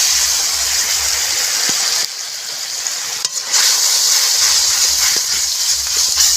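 Coconut paste for a Bengali potoler dolma sizzles loudly in a pan over a wood-fired stove, a close, continuous hiss and crackle that dips briefly and returns, with no voices.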